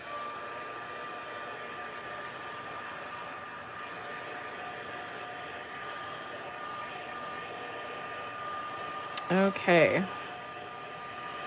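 A heat tool blows steadily on a craft project to speed its drying, a constant close whir running throughout, with a brief spoken word and a couple of short clattering bumps near the end.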